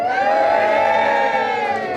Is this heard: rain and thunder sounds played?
no